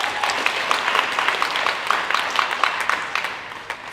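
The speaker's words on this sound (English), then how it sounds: "so give everyone a round of applause." Audience applause at a student leadership awards ceremony, brisk clapping with individual claps audible near the front, tapering toward the end.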